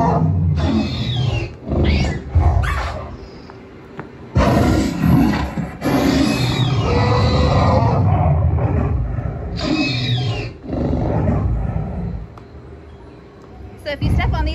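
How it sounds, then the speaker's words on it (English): Loud, deep dinosaur roar effects echo from the woods at the Jurassic Park area of Islands of Adventure theme park, long rumbling bellows repeating over several seconds amid outdoor crowd noise, with people talking nearby. "They make big dinosaur sounds in the woods."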